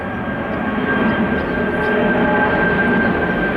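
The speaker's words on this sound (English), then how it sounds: "A wide-body plane now taking off from the airport," A wide-body jet airliner takes off from a nearby airport on a long-haul flight, a loud, steady engine roar that fills the whole stretch without letting up, heard outdoors with no talking.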